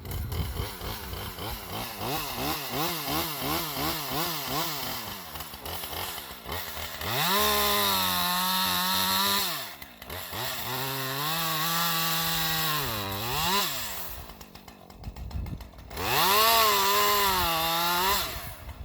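A new Husqvarna 550XP Mark II chainsaw warming up, its small two-stroke engine loud and close, rising into high revving bursts and dropping back to a rough idle several times.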